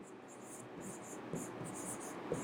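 Soft rhythmic scratching of chalk writing on a board in a classroom, a series of short strokes with small taps, quiet and close with no talk over it.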